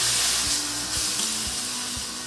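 Wagyu steak sizzles steadily on a grill after being flipped, with a continuous close frying hiss and a few soft periodic ticks or taps underneath, no talking.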